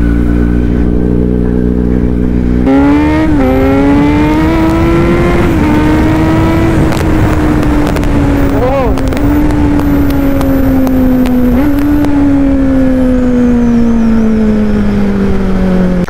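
A Kawasaki Z900 motorcycle roars loudly and continuously while riding a wheelie, its engine note climbing sharply and then holding a strained, slowly falling drone, with dense road and wind noise throughout.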